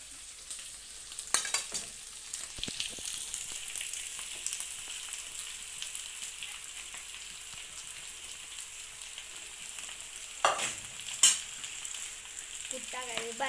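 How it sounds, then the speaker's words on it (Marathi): Potatoes frying for a sabudana dish give off a steady sizzle in the pan, with several sharper scraping strokes from stirring. The hiss is continuous and close throughout, and no one speaks. "मस्त हलवायचं."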